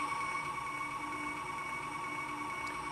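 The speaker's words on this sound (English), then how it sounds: "the train is just running at speed now" An electric Dutch NS VIRM train runs steadily at speed, with a continuous hum and tonal whine and a faint rumble underneath.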